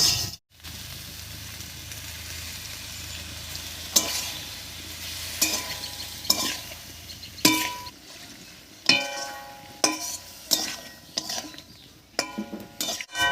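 Ground mustard spice paste and water frying with tomatoes in a pan for a drumstick curry, a continuous close sizzle broken by repeated sharp stirring scrapes and clatters.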